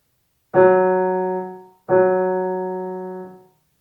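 Two identical sustained musical tones play one after the other, each starting cleanly and decaying evenly, with no other sound around them.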